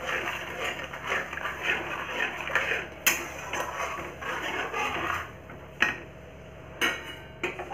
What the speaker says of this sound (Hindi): अब इसे अच्छे से चला लेते हैं हम।